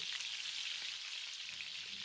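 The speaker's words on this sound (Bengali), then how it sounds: "হালকা হাতে এইভাবে একটু নাড়াচাড়া করে ভেজে নিচ্ছি" Fish chops sizzle and crackle steadily in hot oil over a medium flame, a soft continuous frying hiss with no voices.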